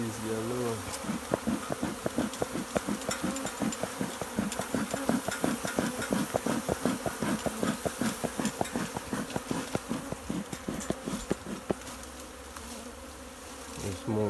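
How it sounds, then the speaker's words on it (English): A dense swarm of yellow honeybees buzzes around a hive box under a lid, a loud continuous drone pulsed with rapid rhythmic thumps, close and sustained throughout. "That's all millions of bees, man."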